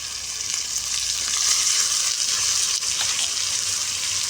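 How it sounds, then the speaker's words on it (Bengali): Turmeric spice paste, mixed with salt and water, fries in a pan for a thin snakehead fish curry, giving a loud, continuous, close sizzle that swells slightly partway through. "এবার একটু গুলে একবারে আমি দিয়ে দেবো মশলা"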